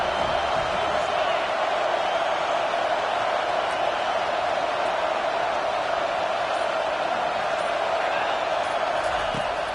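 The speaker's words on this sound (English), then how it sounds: "The roar of the crowd trying to fuel this defense to keep them pinned in their own end." Steady crowd roar fills a stadium during an American football game as fans cheer the defense to keep the opponent pinned deep in its own end, a continuous loud wash of voices with no break.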